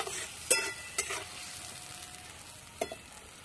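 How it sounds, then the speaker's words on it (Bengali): Cauliflower and potato with salt and turmeric stirred and fried in a pan, a steady low sizzle broken by a few sharp scrapes of the spoon against the pan. "ভালো করে সবকিছু একসঙ্গে কষিয়ে নেব।"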